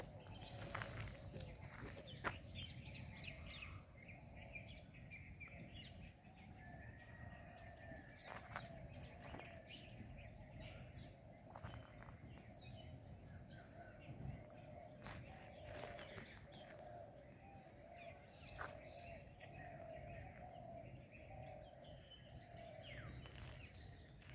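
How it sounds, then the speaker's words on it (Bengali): Scattered bird chirps and calls ring out over a steady outdoor hum in a quiet spot near Shantiniketan, with occasional soft rustling steps nearby. "একটা নিরিবিলি শান্ত পরিবেশ কিন্তু উপভোগ করতে পারবেন যেখানে প্রচুর পাখির ডাক"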